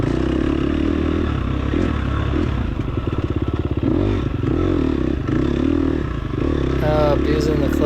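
A dirt motorcycle on a dusty ranch trail with a slipping clutch gives a loud, steady engine drone that rises and falls with revving, while rattling and scraping sounds run over it.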